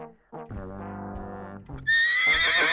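A horse in a video game gives one loud, close neigh, a long wavering whinny that rises into a high shrill squeal at the end.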